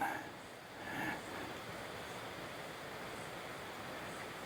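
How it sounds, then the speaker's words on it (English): A river in the valley far below gives a faint, steady distant hiss of flowing water, continuous and even, with a soft swell early on and no talk. "The river's down there. Hope you can hear it."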